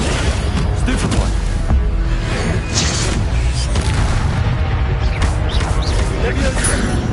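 Stupefy spells fire in a video game as repeated booming, crashing impacts over dense continuous game noise, with a voice talking over the action.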